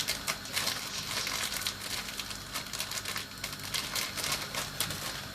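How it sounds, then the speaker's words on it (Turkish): A biscuit packet being torn open, its plastic wrapper crinkling and rustling steadily and fairly close, with continuous crackly texture throughout and no voices. "Hemen bisküvimi açıyorum."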